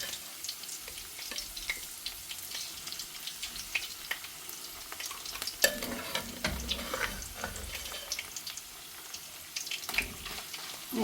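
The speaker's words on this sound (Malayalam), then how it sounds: "ഇത് മുഴുവൻ ചേർത്തിട്ട് നന്നായി ഒന്ന് വരട്ടി പൊരിച്ചെടുക്കാം" Cooked beef frying in hot oil, a soft continuous sizzle with splashy, watery texture and scattered scraping clicks of stirring, fairly quiet and close, no talking.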